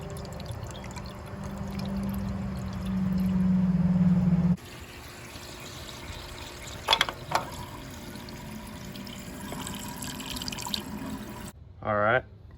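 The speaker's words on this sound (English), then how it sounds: "We're gonna throw this stuff in and then top it off with water" Water is poured into the radiator of a Ford 1910 tractor to top it off, a steady rushing pour that swells and then stops, followed by a quieter trickle with brief clanks and a voice.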